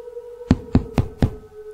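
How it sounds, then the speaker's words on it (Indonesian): Four evenly spaced knocks rap sharply on a door, close and distinct over a faint steady hum, with no talking. "Ani yang mendengar suara ketukan pintu segera membukanya"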